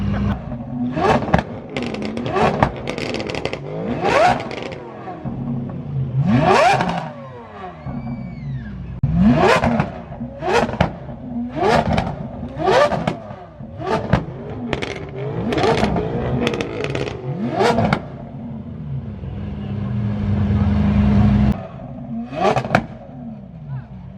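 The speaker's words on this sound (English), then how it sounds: "plus a rev from the Gintani piped Aventador SV right there. That thing is loud." A Lamborghini Aventador SV with a Gintani exhaust revs amid a car-meet crowd, its loud engine surging and falling in repeated sharp blips with clattering pops, under nearby chatter.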